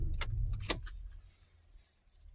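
A set of car keys for a four-wheel-drive Mitsubishi Challenger jangles in two quick metallic bursts, close and bright, then settles into quiet background rumble.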